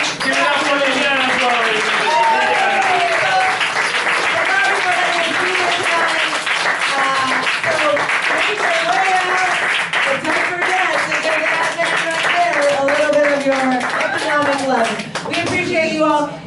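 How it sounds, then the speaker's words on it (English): An audience at a comedy open-mic night in Berlin claps and cheers in sustained, loud applause for the whole stretch, with voices and whoops mixed into the clapping. "Big round of applause for yourselves."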